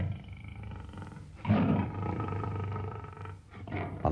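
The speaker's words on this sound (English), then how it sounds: "A lion roaring." A lion lets out a deep, rumbling roar, loud and close, rising suddenly and holding before trailing off.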